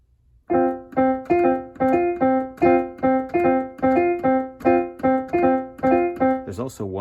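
Piano playing a 5-against-3 polyrhythm, one hand's five even strikes against the other's three in a repeating, evenly pulsing chordal pattern, close and resonant, with a short sweep of another sound at the very end.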